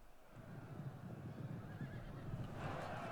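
Cavalry horses whinnying amid the clash of a Total War: Attila battle between Jutes and Ostrogoths, lancers charging, a drawn-out neigh rising over a dense low rumble of hooves and combat.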